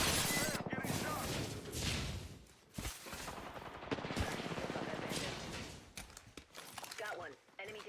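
Gunfire in a ranked competitive shooter video game comes as dense bursts of rapid shots and impacts. Game effects and music crowd in over and around the firing.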